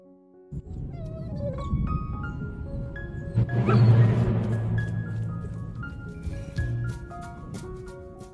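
A cat meows and cries while a big dog chases it, with scuffling and yowls rising to a loud peak midway, amid busy layered sounds.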